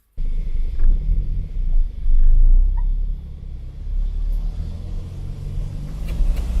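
A turbocharged Toyota Starlet pulls away, its deep engine rumble swelling and easing as it drives off, loud and close with no voices.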